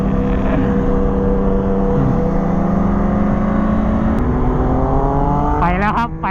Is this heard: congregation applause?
no